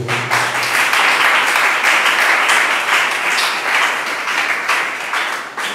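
A church congregation bursts into sustained, dense applause and clapping, loud and close, fading slightly toward the end.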